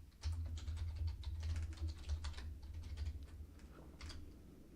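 Computer keyboard keys clatter in quick, uneven bursts of close typing while an admin password is entered during Windows Server setup, over a low steady hum.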